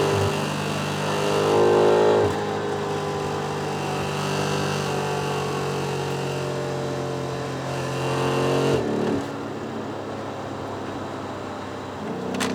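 A 2020 BMW M5 F90 accelerates past traffic on the road. The engine roars and revs continuously with a sharp shift in tone near the end. No voices are heard.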